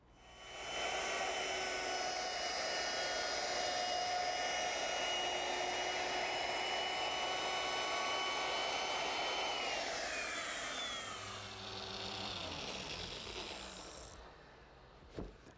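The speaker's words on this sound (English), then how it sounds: "all I need is my router, which is equipped with a 3/8-inch radius roundover bit" A router fitted with a 3/8-inch radius roundover bit rounds the wooden edges of a cradle's hood area, giving a loud, steady high whine for about ten seconds before the motor winds down and stops.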